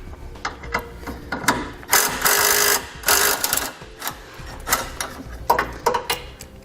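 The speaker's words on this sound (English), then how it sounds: "Next, we're going to take a 10mm socket." Quick bursts of ratchet clicking as a 10mm socket loosens a horn bolt on a 2018 Ford vehicle, close and crisp, with irregular pauses between strokes.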